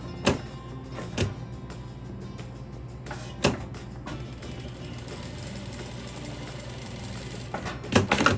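A sewing machine stitches a patchwork tulip block, a steady low mechanical hum running throughout with several sharp clicks and knocks near and at the end.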